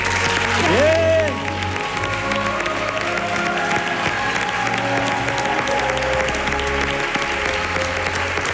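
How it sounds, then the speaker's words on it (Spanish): Studio audience applause on a televised talent show, a dense steady round of clapping with faint cheering, held under sustained piano and music tones throughout. "Este aplauso, por supuesto, también para Jorge Lechado, el maestro al piano."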